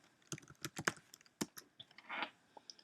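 A computer keyboard tapped in a short, irregular burst of a handful of crisp keystrokes, close and fairly quiet, with no speech.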